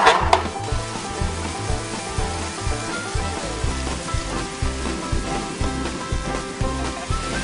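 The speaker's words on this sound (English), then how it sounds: "They're going to cook down, moisture's coming out of them. They get a little bit thicker. I'm going to mash them up a little bit with my spoon." Tomatoes cook down in a pan with a steady sizzle and bubbling, while a spoon mashes and stirs them in low rhythmic scrapes and knocks close by. There is no talk.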